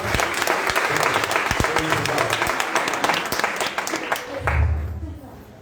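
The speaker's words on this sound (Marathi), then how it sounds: "आपण एक जोरात टाळी वाजवून प्रभूला अर्पण करूया" A church congregation claps together loudly and continuously for several seconds, the applause tapering off at the end.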